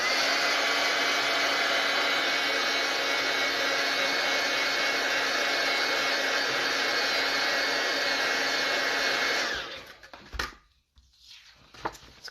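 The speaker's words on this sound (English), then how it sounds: "I am going to use my tool just to dry it." A drying tool blowing air over fresh paint during a whitewash technique, a steady loud whirring blast for about nine seconds that then cuts off, leaving faint handling clicks.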